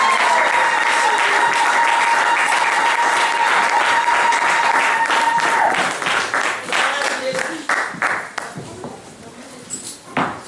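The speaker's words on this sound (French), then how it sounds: "applaudissons pour le Seigneur." A church congregation breaks into loud, sustained applause for the Lord over a held tone, and the clapping gradually thins into scattered individual claps near the end.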